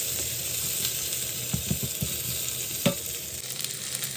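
Ginger sizzling in hot oil in a pan with sesame paste, steady frying crackle with a few distinct scrapes and clinks of a spoon stirring, close and moderately quiet, no talking.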